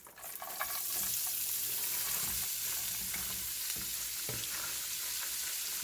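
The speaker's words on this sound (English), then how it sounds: "So now we're going to add the cabbage mixed with the carrot and the onions." Cabbage mixed with carrot and onions fries in a pan with butter and olive oil, a continuous bright sizzle right up close with occasional stirring scrapes underneath.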